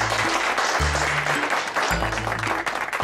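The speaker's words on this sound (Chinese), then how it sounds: "鼓掌。" Audience applause at a school reunion debate contest, steady clapping under music with low tones that rise and fall.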